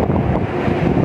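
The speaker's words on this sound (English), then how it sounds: "it's quite windy." Strong wind buffeting the microphone at the Costa Maya cruise port, a loud continuous low roar with gusty swells and no voices.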